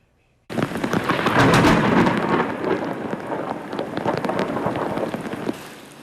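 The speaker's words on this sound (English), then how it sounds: "Lots of us were listening to thunder clapping as the rain came down" Heavy rain pours down hard as a rolling rumble of thunder swells early and gradually fades, the downpour continuing loud and steady.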